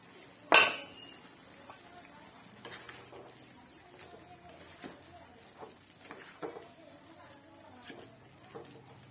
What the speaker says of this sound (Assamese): চব্জিখিনি এবাৰ লৰাই দিম।